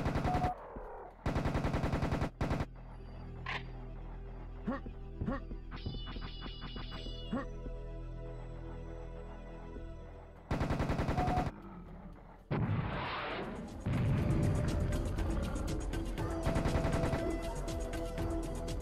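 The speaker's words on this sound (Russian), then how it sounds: "Они умирают от нового ствола дробовика, кстати. Вот именно вот эти каменные големы." In the video game Serious Sam, a new shotgun blasts away at stone golems in loud, booming bursts spaced a few seconds apart. Clanking, crumbling impacts, game effects and roaring noise fill the gaps between shots.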